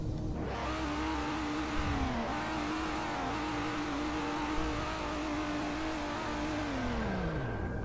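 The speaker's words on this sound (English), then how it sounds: "Here's the rev." Car engine revving in the Roblox game Greenville, a 3.0-liter BMW turbo engine whose pitch climbs, holds a steady drone, then drops away at the end, loud and continuous with no talking.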